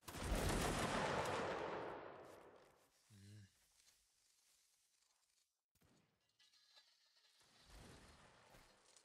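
A massed musket volley in the video game Mount & Blade: Napoleonic Wars, a loud crackling burst of many near-simultaneous shots that fades over about two seconds, followed by sparse faint clatter and scattered later reports.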